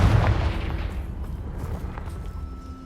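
A loud booming blast erupts from the Confringo spell in the Hogwarts Legacy video game, followed by a rumbling decay that fades over a few seconds.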